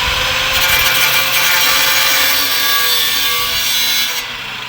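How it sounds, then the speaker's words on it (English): Loud, close and continuous harsh cutting through the thin metal brake shield of a Nissan S14 during a big-brake upgrade, running steadily for about four seconds before cutting off near the end. "we have to cut slits into the brake shield in order to bend it back so the GTR rotors can go on"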